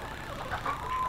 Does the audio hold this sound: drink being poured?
no